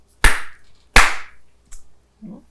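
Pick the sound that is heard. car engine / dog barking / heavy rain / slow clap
slow clap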